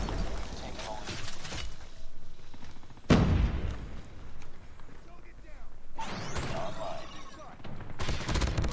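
Rapid M13 rifle gunfire in the mobile shooter COD Mobile, dense bursts and a loud shot amid game effects, with a player talking over it.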